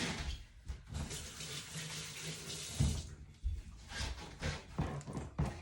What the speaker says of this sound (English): I'm just gonna dampen my hands